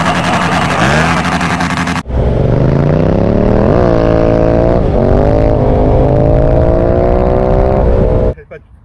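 A Yamaha MT-07 motorcycle with a loud aftermarket exhaust roars close by, rising and falling through several throttle blips over a deep, rumbling idle before cutting off abruptly. Voices are faintly present beneath the engine.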